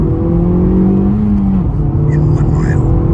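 A Honda Civic Type R FL5 on 19-inch wheels accelerates along a road, its steady engine drone and tyre noise running continuously beneath conversation inside the cabin.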